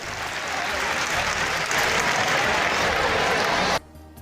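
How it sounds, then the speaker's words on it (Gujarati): Hundreds of students at a high school's 114th founding day celebration in Kheda applaud the chief guest, a dense, steady roar of clapping that stops abruptly near the end. "સેંકડોની સંખ્યામાં વિદ્યાર્થીઓએ તાળીઓના ગડગડાટ સાથે મુખ્ય મહેમાનને આવકાર્યા છે"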